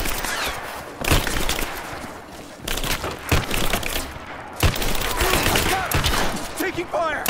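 Gunfire in the video game Rise of the Tomb Raider, loud bursts and cracking shots crowding together through a noisy firefight, with game voices under them.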